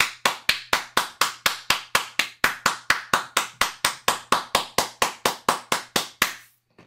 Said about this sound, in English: Give him the royal clap.